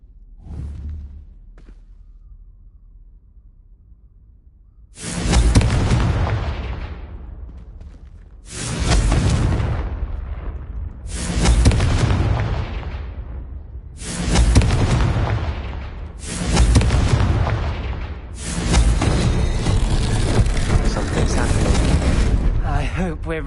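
Repeated Confringo fire-spell explosions from Hogwarts Legacy gameplay, about six loud booming blasts in quick succession, each with a sharp onset and decaying rumble, the last ones nearly merging into continuous roar.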